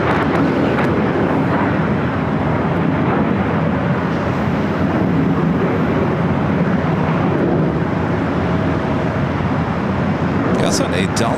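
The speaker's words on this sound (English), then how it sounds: "The Delta 767 400ER coming in from JFK, making its way to the north side terminals here with Delta" A Delta Boeing 767-400ER arriving from JFK taxis toward the north side terminals at LAX, a steady loud jet engine roar with wind rumble, continuous and near.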